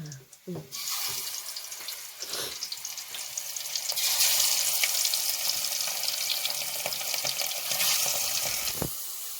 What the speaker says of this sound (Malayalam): എണ്ണ ചൂടാക്കി ഞാൻ കുറച്ച് കറിവേപ്പിട്ട ശേഷം മീൻ എടുത്ത് വെക്കാം